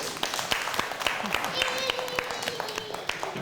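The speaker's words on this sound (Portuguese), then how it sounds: "Aplauso para Colégio San José" A small group claps for Colégio San José at a local event, the claps fairly sparse and distinct, with talk and a sustained tone running underneath.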